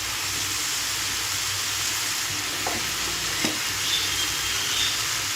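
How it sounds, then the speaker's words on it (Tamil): Oily brinjal kuzhambu, a whole-eggplant curry, bubbles vigorously in oil in a pan, giving a continuous close sizzling hiss with a couple of soft clinks and no talking. "ஒரு சைடு பாருங்கள், எண்ணெய் கத்திரிக்காய் குழம்பு நல்லா கொதிச்சிட்ருக்கு"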